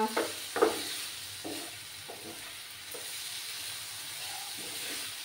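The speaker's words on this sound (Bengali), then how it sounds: "আরও কিছুক্ষণ আমি এইভাবে নাড়াচাড়া করে নেব।" Red spinach stir-fried with poppy seeds in a pan, a steady soft sizzle and hiss with a few scraping stirs near the start, close and alone without talk.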